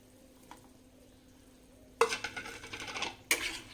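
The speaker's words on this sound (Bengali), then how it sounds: "ভাজা আলু দিয়ে এবার নেড়ে নিচ্ছি" Fried potatoes stirred into a desi chicken curry in a pot, quiet at first, then a sudden burst of spoon scraping and clattering against the pot with a light sizzle, ending in a final sharp scrape.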